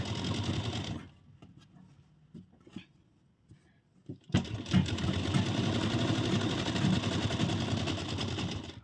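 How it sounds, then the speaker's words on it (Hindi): A sewing machine stitches the side seam of a blouse sleeve, whirring steadily and close, stopping for a few seconds with small handling noises, then running again continuously. "स्लीव को हमने सिलाई करने के बाद अब हम जो हमारी स्लीव है इसको अभी हम सीधे साइड सिलाई लगा रहे हैं"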